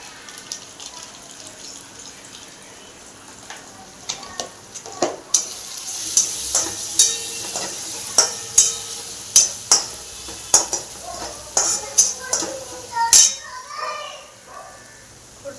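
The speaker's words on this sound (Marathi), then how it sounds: "तडका तयार झाला खिचडीचा" Tadka spices of red chilli, coriander powder, turmeric and asafoetida fry for masala khichdi, a sizzle broken by repeated sharp scraping stirs. It is close and grows busier, with a voice speaking over it.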